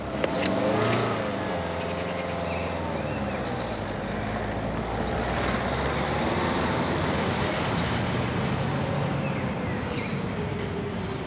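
A car in a French police drama starts and pulls away, its engine noise rising at the start then holding steady as a continuous loud rumble with faint high squeals over it, no voices.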